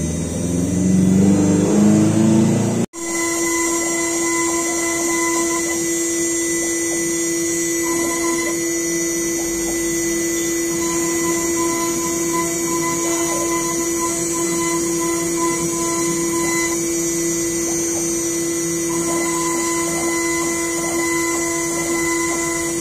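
A CNC router cuts a miniature line-array speaker box, with a sharp start followed by a steady, loud, continuous machining whine and hum that runs unbroken throughout.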